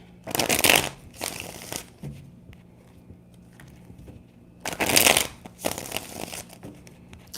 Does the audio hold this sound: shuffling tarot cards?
yes